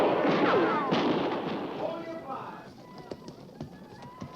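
Gunfire in a western cavalry film: a heavy opening burst of shots over a loud battle din, thinning into scattered, sharper individual reports as the noise fades.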